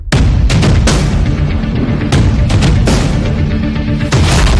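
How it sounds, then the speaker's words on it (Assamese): Loud, dense bursts of gunfire boom in rapid succession, heavy and close, with no pause between volleys. "চৌদিশে গুলী আৰু বাৰুদৰ ধোঁৱা"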